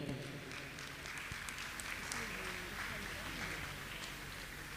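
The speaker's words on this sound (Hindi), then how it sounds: "जोरदार ताली बजाकर उनका सम्मान करें" Audience clapping to honour a woman who completed a five-day fast at a religious gathering in Indore, with steady, moderately loud applause continuing throughout.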